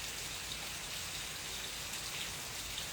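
Heavy rain pours steadily, heard from a terrace: a dense, unbroken hiss of falling water that stays constant and fairly close throughout.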